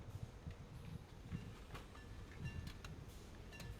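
A train runs steadily in the video game Transport Fever 2, a soft continuous rumble with faint clickety-clack and occasional hissing, quiet and without talk.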